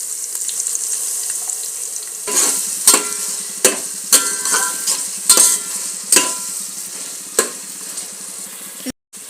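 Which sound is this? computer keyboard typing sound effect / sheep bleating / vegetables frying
vegetables frying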